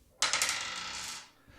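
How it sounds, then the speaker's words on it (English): Dice rattle and tumble across a hard surface in one close, bright clatter. It fades after about a second and is followed by a faint small knock, with no talking. "let's roll the dice."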